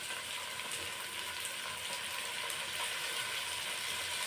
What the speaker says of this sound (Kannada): ಹಾಕ್ಬಿಟ್ಟು ಇದು ಕೂಡ ನೀಟಾಗಿ ಫ್ರೈ ಆಗಲಿ